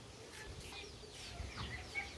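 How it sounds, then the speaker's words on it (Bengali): Faint chickens cluck a few times in a village yard, soft and distant over low background noise, with no talking. "আমাদের মুরগিও আছে"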